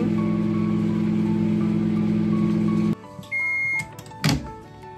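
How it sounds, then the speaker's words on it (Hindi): A microwave oven runs with a loud steady hum for about three seconds, then stops. A high beep and some clattering follow. "इसको मैं अभी माइक्रोवेव करूँगी तकरीबन 35-40 सेकेंड्स के लिए"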